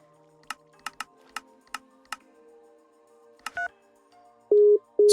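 Phone dialing in modded Minecraft, a series of about eight evenly spaced short beeps, then a warbling tone and two long, loud steady tones, clear and close with no talk.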